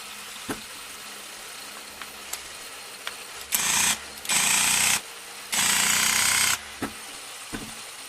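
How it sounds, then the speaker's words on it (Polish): A Parkside cordless hammer drill on a 4 Ah battery runs in three loud bursts of about half a second to a second each, with quiet pauses and small clicks between them and no talking. "tutaj mamy wiercenie"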